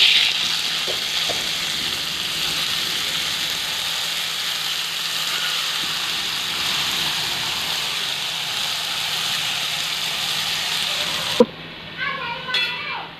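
Mixed vegetables sizzle and crackle loudly in hot oil in a kadhai, a dense continuous fry that drops away near the end, where a voice briefly speaks.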